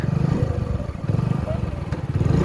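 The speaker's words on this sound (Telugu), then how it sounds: "కొంచెం పెట్రోల్ తక్కువ ఉందన్నమాట అందుకే బుర్బుర్ అంటుంది" A Hero Passion Pro motorcycle idles unevenly, its engine sputtering and pulsing from low petrol after a wash, close by, with a voice talking under it.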